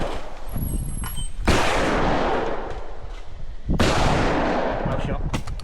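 Two loud, close shotgun blasts fired at clay targets on an outdoor shooting ground, each a sharp crack with a long rolling echo, about two seconds apart.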